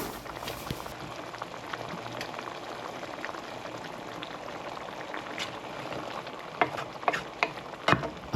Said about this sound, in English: Now I'm gonna add the fish to the pot.